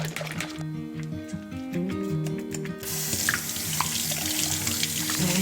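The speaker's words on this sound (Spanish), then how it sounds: "necesito lavar un par de botellas para poder organizarlas aquí" Tap water runs and splashes into a kitchen sink as baby bottles are washed by hand, a steady close gush that grows louder partway through, with background music playing underneath.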